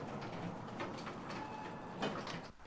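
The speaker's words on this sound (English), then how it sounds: "We have elevator doors." An elevator door sound effect plays as a long, steady mechanical whir and rumble with faint rattles and a soft knock near the end.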